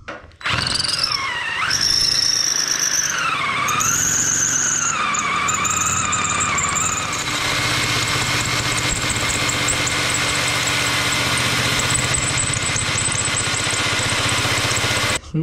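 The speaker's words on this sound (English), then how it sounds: "So we shall use the countersinks from Armour Tooling to countersink these holes." A countersink bit drills into steel holes for a 7.25-inch gauge steam locomotive part, giving a loud, sustained whine that wavers in pitch, then settles into steady grinding chatter as it bites near a weld.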